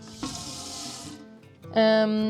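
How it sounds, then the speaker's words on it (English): Water runs from a camper van kitchen tap in a brief hissing burst, framed by a nearby voice talking before and after. "Then we have running water."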